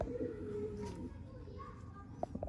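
Breeder pigeons coo softly in a loft, low rolling calls partly under someone talking, with faint chirps and background activity.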